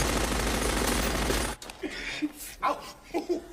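A dense burst of rapid gunfire in the 1994 film Richie Rich rattles continuously, then cuts off abruptly, followed by scattered faint voices and sounds.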